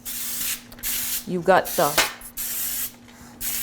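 Cooking spray hisses onto a baking pan in short broadband bursts, replacing butter and flour greasing, while a person talks over it nearby.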